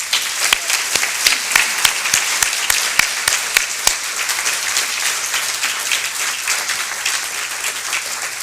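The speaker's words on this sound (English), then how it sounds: "I want to honor the three groups with an applause because they deserve it." An audience at a dinner event claps in sustained applause, with sharp individual claps standing out early before settling into an even, dense wash of clapping that continues throughout.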